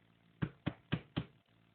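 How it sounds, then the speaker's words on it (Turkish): Four firm knocks on a house door in a neighbourhood in Kars, Turkey, evenly spaced in quick succession, fairly close and alone with no talk. "herhangi bir kapıyı çalıyoruz"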